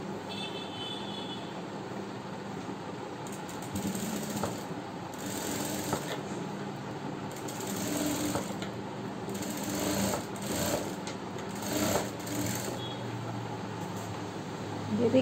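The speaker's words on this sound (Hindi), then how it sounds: "अभी देखिए इस पर आप हम सिलाई डाल लेंगे इस तरीके से।" A sewing machine stitches a round dress neckline in short bursts of fast whirring, starting and stopping several times, close up over a quiet room background.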